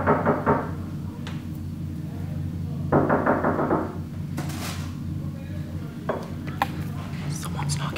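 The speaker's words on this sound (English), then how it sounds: "someone's knocking on my door." Rapid knocking on a door comes in several bursts, close and fairly loud, mixed with quiet whispering and other household clatter.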